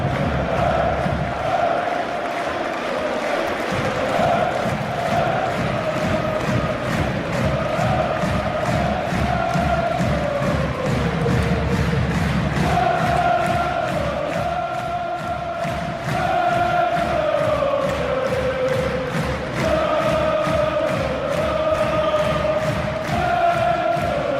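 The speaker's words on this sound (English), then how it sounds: "supporters definitely are cheering that one on there" Stadium crowd of supporters cheering and chanting in a Blood Bowl video game match, a loud continuous roar with rhythmic rising swells and pulsing claps across the whole stretch.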